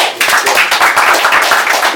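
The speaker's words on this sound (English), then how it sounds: "Everybody clap for Nature, man." Audience clapping steadily for the guest Nature at the close of a hip-hop talk show, a loud, continuous patter of hands, close and sustained.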